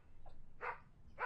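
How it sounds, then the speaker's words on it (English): Dog barking in the Project Zomboid survival video game: a soft yip followed by two sharper barks, moderately distant and fairly faint over a low background hum. "And the dog's barking"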